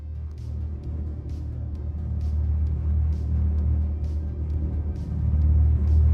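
A car engine rumbles low and steady, growing slightly louder toward the end, with no sharp revs standing out.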